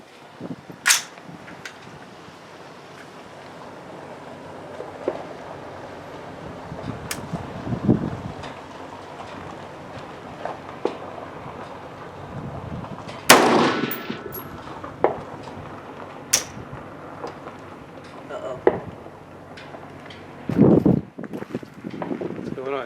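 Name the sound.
rifle gunfire, Springfield Armory Saint firing Aguila 5.56 ammunition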